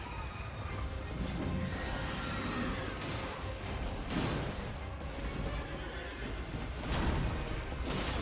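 A horse neighs in Elden Ring during a boss fight with the Tree Sentinel, with whinnies rising out of a dense, continuous layer of game noise, impacts and rushing swooshes.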